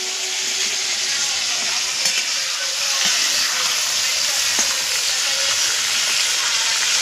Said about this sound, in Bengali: সব চিকেনগুলোকে আমি ফ্রাই করে নিয়েছি